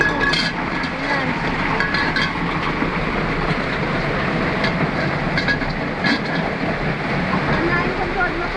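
Heavy typhoon rain pours steadily with gusting wind, a dense continuous roar that stays loud and unbroken throughout, with faint voices occasionally beneath it.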